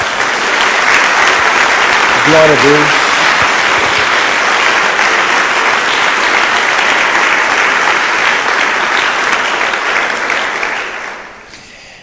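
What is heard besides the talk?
congregation applauding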